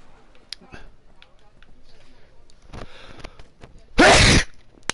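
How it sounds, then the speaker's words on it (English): A single sharp human sneeze bursts out loud and close near the end, following quieter gameplay sounds and a voice speaking, set during a shooter video game playthrough on a PS4 Pro. "Oh, I sneezed."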